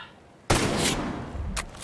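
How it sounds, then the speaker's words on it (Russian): Enemy gunfire in the video game Ghost Recon Breakpoint bursts in suddenly after a quiet moment, a loud blast trailing into rumbling echo, with another sharp shot near the end. "Слышу стрельбу врага!"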